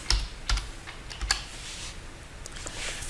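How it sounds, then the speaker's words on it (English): A password being typed on a computer keyboard: a few soft, close key clicks spaced unevenly, then faint tapping fading out over quiet room tone. "Then you type in your Blackboard password."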